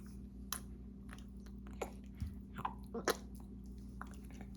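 A baby chewing food during a meal with a parent, soft wet munching and small bites scattered irregularly, close and faint over a low steady hum, no talk.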